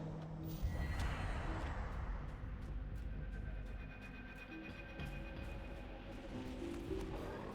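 A horse neighs in Lord of the Rings Online right after the rider dismounts in the Trollshaws, a clear whinny near the start followed by snorting and light hoof shuffles over a steady game ambience.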